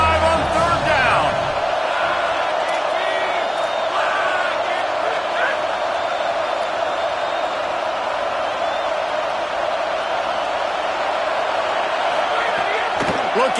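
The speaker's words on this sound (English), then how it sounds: "The Buckeye crowd alive on 3rd down" Ohio State Buckeyes stadium crowd roaring on a third down during a college football game, a loud, sustained wall of cheering from a huge audience, with a commentator talking over it.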